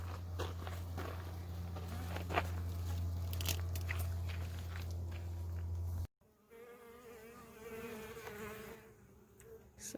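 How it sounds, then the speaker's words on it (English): Honeybees swarm over a frame from the bottom brood box of a beehive, a dense, steady buzzing hum droning loudly for about six seconds before cutting to a thinner, quieter buzz with scattered rustling. "Lots of bees."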